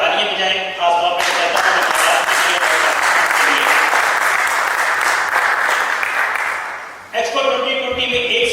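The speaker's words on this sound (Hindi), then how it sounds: "इसमें अगर आप तालियां बजाएं" Audience applause at a party welcoming the Expo 2020 Pakistan Pavilion: a loud, sustained burst of many hands clapping fills about six seconds, with talk before and after it.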